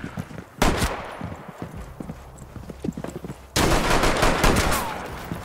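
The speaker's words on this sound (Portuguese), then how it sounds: "Ah, porque eu dei um tiro." Gunfire in the Rainbow Six Siege video game: a sharp close shot rings out, then a louder sustained burst of shots erupts amid clattering game noise.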